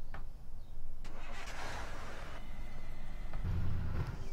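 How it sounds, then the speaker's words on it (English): Kenworth dump truck engine starting in Farming Simulator 2015, a simulated starter crank and clicks that catch into a low steady rumbling idle, moderately loud throughout. "Let's go ahead and fire it up right now."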